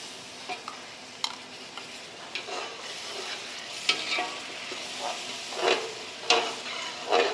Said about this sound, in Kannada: ಶುಂಠಿ, ಬೆಳ್ಳುಳ್ಳಿ, ಹಸಿಮೆಣಸಿನ್ಕಾಯಿ, ಪುದೀನ, ಪಾಲಕ್ಕು, ರುಬ್ಬಿದ ಮಸಾಲೆಯನ್ನು ಕುದೀತಿರುವ ಎಣ್ಣೆಗೆ ಬಿಡುತ್ತಿದ್ದೇನೆ